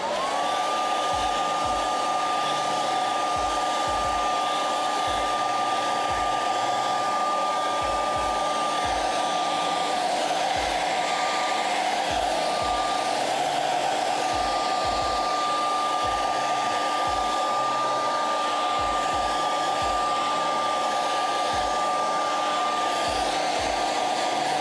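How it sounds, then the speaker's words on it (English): A hair dryer blows steadily and loudly for a long stretch while drying a freshly made puppet craft, a constant whirring roar with faint handling knocks underneath. "Now we're going to hit this with a hairdryer"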